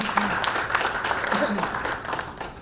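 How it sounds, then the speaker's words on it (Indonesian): Faint, diffuse applause rises from the audience at an evening forum of Madura tobacco farmers, traders and legislators. A voice talks over the clapping. "Mari beri tepuk tangan yang meriah terlebih dahulu."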